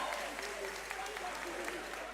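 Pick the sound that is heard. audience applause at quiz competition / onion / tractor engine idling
audience applause at quiz competition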